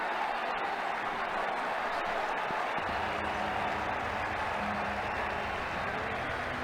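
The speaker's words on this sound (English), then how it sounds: "The crowd enjoyed that shot." Steady crowd applause and cheering in a cricket video game, a dense even wash of clapping that holds at constant level throughout, with a faint low hum entering partway.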